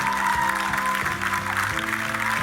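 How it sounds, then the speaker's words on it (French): Audience applause at a French televised talent competition, a steady wash of clapping that fills the whole stretch with sustained musical tones beneath it. "Applaudissements pour Marie, mesdames, messieurs, s'il vous plaît"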